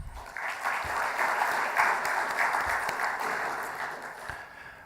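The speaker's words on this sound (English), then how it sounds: "Let's please have a round of applause for our sponsors." A conference audience applauds the event's sponsors with dense, steady clapping that swells after a second, holds, then eases slightly toward the end.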